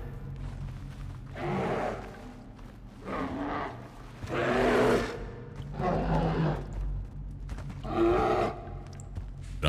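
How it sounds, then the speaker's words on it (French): Roaring animal cries thought to come from trapped bears, five drawn-out growling bursts at a steady pace, loud and fairly close, over a low constant rumble with no talking. "J'ai l'impression que c'est des ours coincés."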